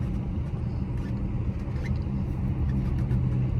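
Dodge Hellcat engine rumbling steadily while driving on Miami Beach, a constant low, loud drone with road noise and no talk.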